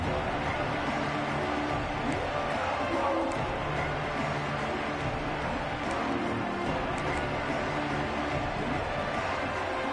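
A dense, steady roar of a stadium crowd rises in a college football video game, a constant wash of cheering that never lets up across the whole stretch.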